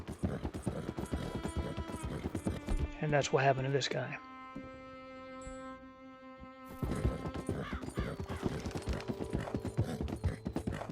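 Hooves clip-clop in a steady rhythm, interrupted by someone speaking briefly, then musical tones, before the hoofbeats resume, in the video game Red Dead Redemption.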